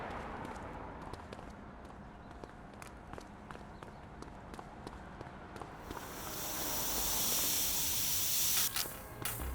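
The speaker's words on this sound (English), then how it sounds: "Spray can bandits in action." In a video game, a steady broadband hiss swells in after several seconds of faint clicks and rustles, sustained like an aerosol can spraying, fairly close and loud.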